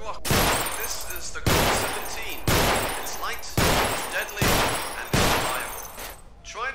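Six loud, evenly spaced Glock pistol shots in the horror game Underhell, each a sharp blast with a short ringing decay, with a player talking between them.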